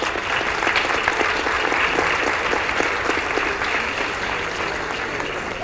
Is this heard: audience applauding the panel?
yes